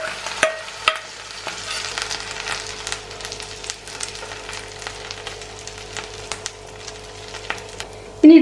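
Oats snack batter meets hot oil in a pan, crackling with a steady, moderate sizzle dotted with small pops and light scraping, ending in a louder clatter.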